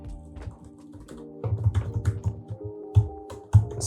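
Rapid keystrokes on a computer keyboard while entering text, a steady patter of close, crisp taps that grows louder and busier midway, with a few sharper key hits near the end and no voices.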